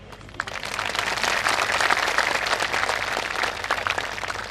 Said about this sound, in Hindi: इतनी कम तालियां उनके लिए